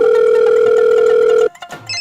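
A steady electronic telephone tone rings loudly for about a second and a half, then cuts off abruptly.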